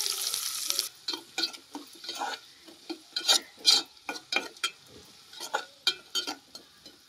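Onions hiss in a pan over a tempering of spices as a spatula scrapes and stirs in quick, irregular strokes, the sizzle loud at first, then settling under the clattering stirring.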